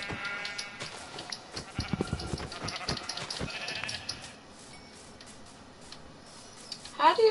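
Minecraft sheep bleats mixed with ticking clicks and light talk, busy for the first few seconds, then quieting before a brief louder sound at the end.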